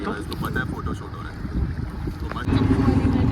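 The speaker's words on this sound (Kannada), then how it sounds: "ನೋಡಿ ಇಲ್ಲೆಲ್ಲ ಬೋಟ್ಸ್ ಹೋಗ್ತಿದ್ದಾವೆ" Motorboats travel along the river past the ghats of Varanasi, with a steady engine drone and water wash that grows louder and closer partway through, under breezy outdoor ambience and faint voices.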